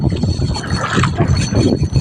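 A small boat is paddled on open water in wind, with splashy, uneven paddle strokes and water sloshing under heavy wind buffeting on the microphone.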